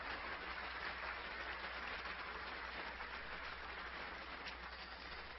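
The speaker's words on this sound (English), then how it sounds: "So please help me in giving them a warm round of applause for" An audience at a conference gives a warm round of applause for sponsors, dense and sustained clapping that fills the room evenly from start to finish.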